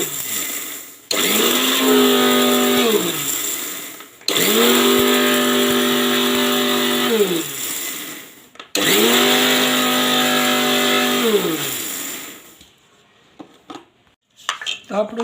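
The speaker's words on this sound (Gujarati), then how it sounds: "પહેલાં આપણે જીરાનો ભૂકો કરી લેશું મિક્સરમાં" A kitchen mixer grinder grinds cumin seeds in three loud bursts of whining motor roar, each spinning up and winding down, separated by short pauses, with faint rattling and handling noises at the end.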